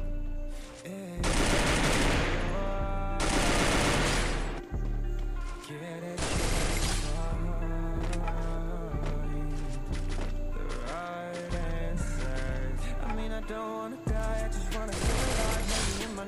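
A mobile shooter video game fires in loud, rapid automatic bursts, several long volleys separated by brief pauses, mixed with in-game music and effects.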